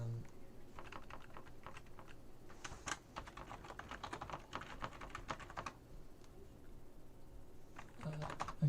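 Fast bursts of typing on a computer keyboard, with close, quiet clicking keystrokes in irregular runs and short pauses, and a voice speaking faintly at moments.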